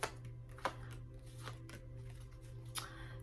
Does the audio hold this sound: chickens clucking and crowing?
no